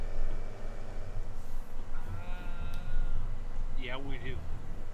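Sheep bleat in the farming video game Farming Simulator 17: a couple of wavering, nasal calls rise over a low engine-like hum and background murmur, with people talking alongside.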